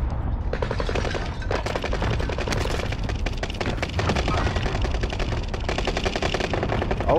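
Rapid automatic fire from a Welgun submachine gun in a shooter video game, sustained bursts of dense, crackling shots running nearly continuously and loud throughout.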